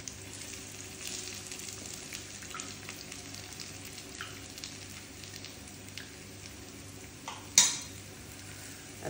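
Banana flower vadis frying in a pan over a low gas flame, a steady soft sizzle with occasional stirring and scraping sounds and one sharper clink near the end.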